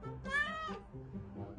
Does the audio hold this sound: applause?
no